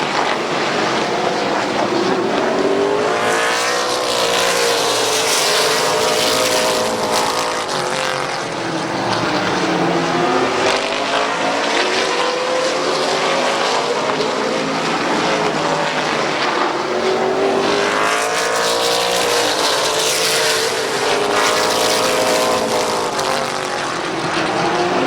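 Race cars roaring around the Midvale Speedway oval during a green-flag race, loud engines swelling and fading repeatedly as the field passes by, with no talk.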